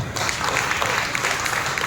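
A church congregation at a Sunday worship service claps in a dense, steady burst of applause that fills the whole stretch, with a faint voice underneath.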